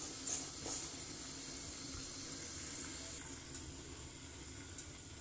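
White chicken karahi simmering on dum under a covered pot, a faint, steady low sizzle and gentle bubbling with a soft hiss of steam, quiet and unbroken throughout.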